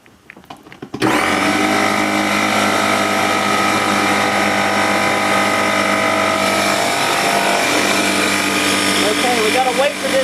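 Air compressor inflating an inflatable pool, starting abruptly after a moment of quiet and running as a loud, steady mechanical drone with whirring and rattling overtones, close by and continuous to the end.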